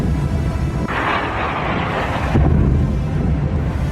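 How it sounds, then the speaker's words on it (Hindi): A blast from a Russian missile-drone attack on Kharkiv, Ukraine, heard as a low, roaring rumble that swells and then surges again with a second heavy boom, alone without speech. "एक के बाद एक 4 धमाके और हर धमाके के बाद एक जैसी तस्वीर"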